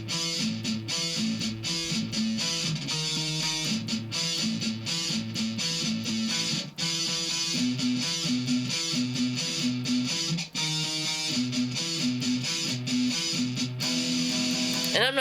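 A guitar plays a riff slowly, a steady run of repeated picked notes and chords that rings out clearly and alone, with no talking over it.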